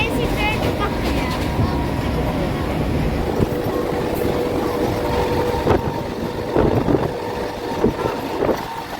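Rumbling interior of a Mumbai local AC commuter train in motion, a steady continuous rail drone with occasional clanks, heard up close throughout with a voice speaking faintly over it.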